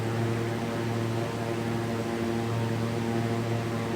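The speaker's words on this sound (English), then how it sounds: "She's a loud airplane without those 820s on" Diamond DA50 RG airplane engine in X-Plane 11, a loud steady propeller drone with a deep hum and no change in pitch, heard alone.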